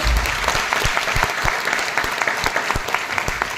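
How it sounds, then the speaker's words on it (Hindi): An audience claps loudly and steadily at a Hindi-language direct selling career training session, a dense sustained burst of many hands close by with no voices over it. "जोरदार ताली होनी चाहिए"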